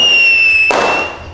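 A Deepavali 25-shot firecracker bursts with a single sharp, loud crack, cutting off a steady high whine that plays just before it.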